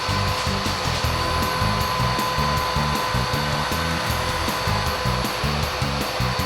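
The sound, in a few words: vacuum cleaner sucking up stain-removal powder from carpet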